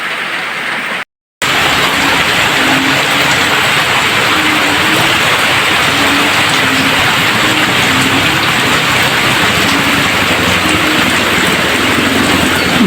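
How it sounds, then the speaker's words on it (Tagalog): Heavy rain pours during flooding in Malalag, Davao, a loud, dense, continuous hiss of downpour that fills the scene after a brief dropout at the start, with no voices. "Grabing ulan."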